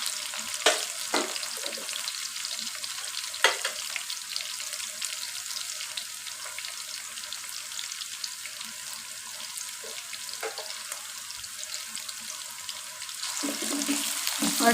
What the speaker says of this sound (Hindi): इसमें अब मैं डाल दूँगी कटी हुई अदरक